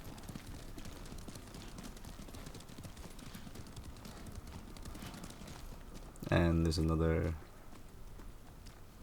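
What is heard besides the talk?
horse hooves galloping in video game Ghost of Tsushima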